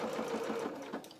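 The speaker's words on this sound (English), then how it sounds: "now we're going to sew along this edge here." Sewing machine stitching along a fabric edge on a small doll's playsuit, a brief, steady, close mechanical whirr that runs continuously with no talking.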